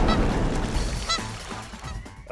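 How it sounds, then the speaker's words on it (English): Geese honk behind the listener beside the San Joaquin River, a few short nasal calls over a loud, close outdoor rumble in a brief burst. "I can hear the geese behind me"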